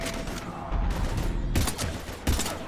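Repeated bursts of automatic gunfire in the video game Mass Effect 3, dense rattling volleys coming in two or three waves, loud and close, with no talk over them.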